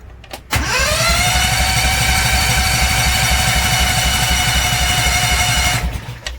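A Predator 670 engine on a carpet cleaning van is cranked and then roars steadily at full throttle, a loud, close, even drone with a rising whine, cutting off sharply near the end.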